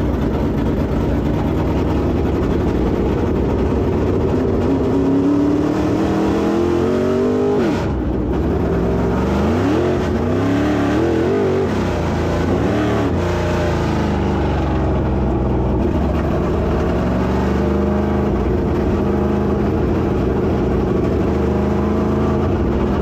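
A race car engine howls loudly and continuously during a heat race on the Pevely track, its pitch sweeping up and down through repeated shifts and throttle changes, close and dominating throughout.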